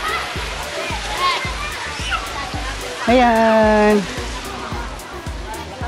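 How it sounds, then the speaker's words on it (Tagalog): Spring water flows steadily through resort fish ponds, a constant hiss and splash heard close up, while people talk over it and a sharp tonal squeal rises briefly in the middle. "So ang dami niyang ano talaga, fish ponds. So flowing water siya."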